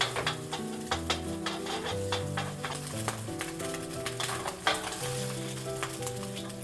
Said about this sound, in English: This is a quick hard scramble, not a soft melty one